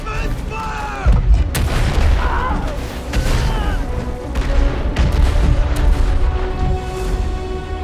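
Civil War artillery and rifle fire open up on a battlefield: heavy booming cannon shots and sharp cracks burst repeatedly, loud and close, with rumbling echoes and shouting voices mixed in.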